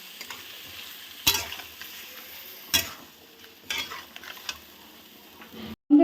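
Ground spice paste sautéed in a pan for soybean and potato korma gives a low, steady sizzle broken by a few sharp scrapes and knocks of stirring. The sound is close and fairly quiet, and no one speaks.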